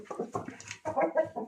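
A fighting rooster offered for sale gives a quick series of close, choppy clucks in short bursts with brief pauses between them.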